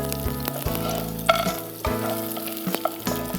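Almonds and cashews fry in oil with chunky crushed garlic, a steady close sizzle broken by a few sharp pops and clinks of stirring, with no voice over it.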